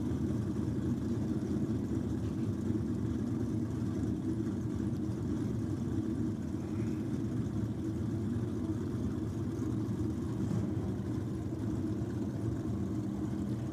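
Nitrous small-block and big-block drag racing engines at a drag strip, a steady, distant low engine rumble running without break and without any talk.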